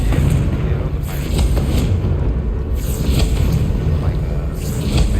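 A fire spell bursts in the video game Hogwarts Legacy, giving a loud booming explosion with a rumbling roar that carries on under steady game noise, with faint talk mixed in.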